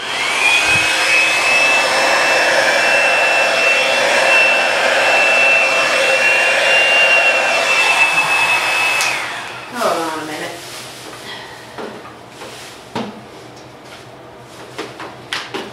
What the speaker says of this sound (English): I'm gonna plug in my bigger hair dryer